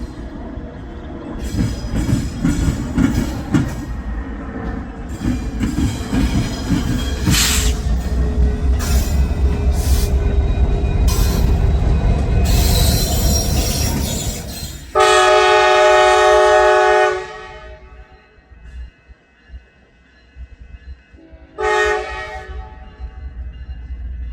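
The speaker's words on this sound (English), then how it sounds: "You can still hear the BNSF train going through the crossings." A BNSF freight train rumbles steadily past, its horn blaring in long blasts at crossings, then fading before one more distant horn sounds.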